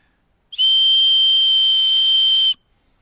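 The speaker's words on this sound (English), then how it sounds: "It does have a built-in emergency whistle, which is fairly loud." One loud, piercing whistle blast from a survival watch's built-in emergency whistle, held steady for about two seconds, then silence.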